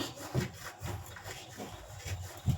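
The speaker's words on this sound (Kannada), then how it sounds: "ಸ್ವಲ್ಪ ಕೈಯಲ್ಲಿ ಹಾಕ್ಕೊಂಡು ಈ ಥರ ಉಜ್ಜಿದೆ ಅದು ಉಜ್ಜಿದ್ರೆ ಘಮ ಬರ್ತೈತಿ" Carom seeds (ajwain) rubbed between bare palms in a home kitchen, giving a soft, dry, gritty rustle in repeated strokes, close and fairly quiet, with no talking.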